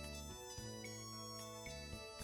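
A phone ringtone plays a steady, tonal electronic melody of sustained notes that change pitch a few times, clear and uninterrupted, with no talking over it.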